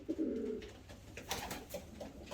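Young pigeons coo softly in a loft where breeding birds are kept, with low, rounded calls near the start and faint scattered bird sounds after, nearby and moderately quiet.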